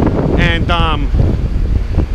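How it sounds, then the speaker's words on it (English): Strong wind buffets the microphone in continuous low rumbling gusts, loud and close, while someone speaks briefly over the noise. "Really windy."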